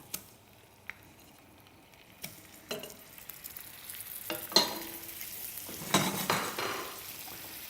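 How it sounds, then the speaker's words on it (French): Foie gras escalopes laid into a hot pan, a few sharp clicks and clinks of utensils followed by a rising hiss of sizzling that grows louder over the last few seconds, with no talking. "Allez, on dépose les escalopes."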